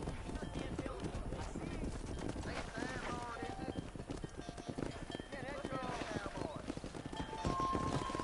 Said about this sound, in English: Whoa there. Drive them down the road, Mr. Marston! Giddy up!